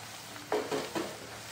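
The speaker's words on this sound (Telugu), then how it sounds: "బాగా వేగుతాయండి, ఫ్రై అవుతాయి ఆనియన్స్ అనేటివి." Chopped onions frying in a pan for chicken biryani, stirred so a few soft scraping, sizzling bursts rise briefly over a quiet background hiss.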